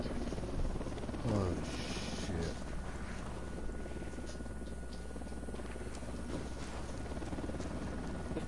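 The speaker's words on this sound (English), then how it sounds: "Chopper inbound." Video game helicopter rotor noise continuing as a steady background drone, with a voice speaking briefly over it near the start.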